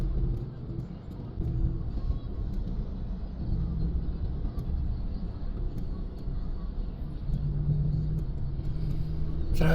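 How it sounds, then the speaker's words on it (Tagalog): Night road traffic heard from inside a car, a continuous low engine and road rumble with passing vehicles and faint scattered clicks, steady throughout without speech. "Traffic."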